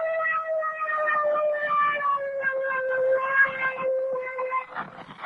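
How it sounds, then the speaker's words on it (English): A siren signal sounds aboard a ship off Normandy in 1944, a wavering, slowly falling wail that carries steadily for about five seconds with no talk over it. "There's the siren signal."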